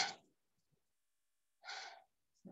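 Short, breathy exhales close to the mic during a qigong abdominal breathing exercise, heard as brief puffs of air separated by near-silent pauses.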